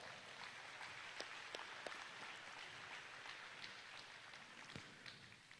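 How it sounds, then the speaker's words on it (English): Distant crowd applause at the Calgary Stampede Junior Steer Classic rodeo, a faint steady patter of clapping that continues evenly without voices standing out. "let's give them a round of applause"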